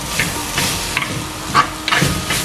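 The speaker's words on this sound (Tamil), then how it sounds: "இந்த உள்ளி போட்ட அப்புறம் ஒரு நிமிஷம் வதங்க விடுவோம், இந்த உள்ளி பச்சை வாசம் போகிறதுக்கு." Garlic sautés in a pan over medium heat, a soft constant sizzle cut by rhythmic stirring strokes about every half second, close and fairly loud, with no speech.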